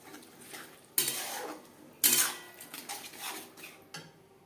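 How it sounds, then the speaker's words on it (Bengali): Gobindobhog rice is stirred with spices in a pan, with a utensil scraping and rustling through the grains, two sharp clanks against the metal, then softer mixing strokes up close. "মশলার সাথে চাল বেশ ভালো করে মিক্সড করে দেব।"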